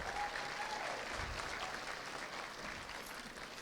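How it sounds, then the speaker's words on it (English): An audience claps in sustained, dense applause that fills the room at an even level throughout, with a faint voice underneath. "So they get some applause."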